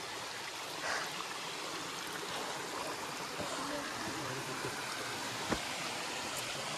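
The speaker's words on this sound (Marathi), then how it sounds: "किल्ल्याच्या खाली उतरलो की जो झरा होता त्या झराच्या इथं असं पाणी साचलंय." A stream gurgles below a hill fort on a trek, where its water pools. The sound is a soft, continuous wash of running water throughout, with faint scattered knocks and a brief sharper tap near the end.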